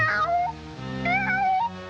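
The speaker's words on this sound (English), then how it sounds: "I'm that hungry little kitty cat you just read about." A cartoon cat from the 1941 Woody Woodpecker short Pantry Panic gives two drawn-out, wavering meows, loud and close, with no talking over them.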